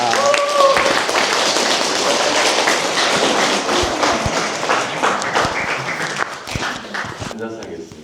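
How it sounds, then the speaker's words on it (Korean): A church lecture audience gives a welcoming round of applause for a visiting missionary priest, steady dense clapping that tapers off near the end, with a voice speaking briefly at the start. "큰 박수로 환영하겠습니다"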